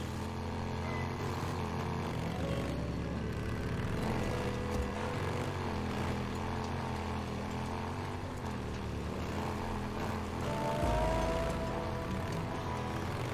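Motorcycle engine riding in the video game Days Gone, a steady droning engine hum running throughout at moderate level with slight pitch shifts and a brief louder swell near the end.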